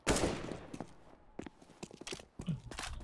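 Gunfire from the video game CS:GO, with a burst of sharp shots at the start, then scattered single reports and clatter as the round plays on.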